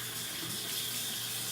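Hot water running steadily from a tap, a continuous close hiss and splash with no break over the short stretch.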